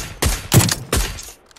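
Three loud, booming rifle shots from an M24 sniper rifle in a shooter video game, spaced about a third of a second apart, each with a heavy low thump and a short decaying tail.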